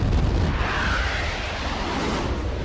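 Explosion from the 1997 James Bond film Tomorrow Never Dies: a sustained roaring blast with dense low rumble and broad crackling noise lasting throughout, loud and close, no speech.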